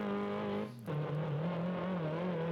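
A desert race truck engine in the BeamNG video game roars at full throttle, holding a steady high drone that briefly dips as it shifts, then climbs and sustains again, loud and close.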